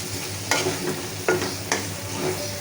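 Green chilies with turmeric sizzle in hot oil in a pan for a prawn and taro-leaf dish, with a steady close fry broken by three sharp scraping stirs of a spatula against the pan.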